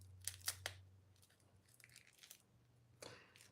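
Small plastic packaging around a zipper pull being torn and crinkled open, with a few sharp crackles near the start followed by softer rustles and one more crunch, quiet and close.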